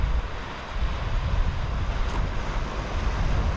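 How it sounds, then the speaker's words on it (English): Sea waves come in on a Scottish beach, a continuous rumbling wash mixed with heavy wind buffeting the microphone and no voices. "It's just lovely with the waves coming in."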